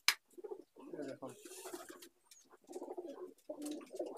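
Andhra pigeons coo softly in a loft, low rolling calls repeating between bursts of nearby talk.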